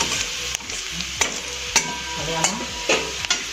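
Ginger and garlic frying in oil in a pan, a steady close sizzle broken by repeated sharp scrapes and clinks of a spoon stirring against the pan every half second or so, with no talk.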